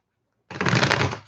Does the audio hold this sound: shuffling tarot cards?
yes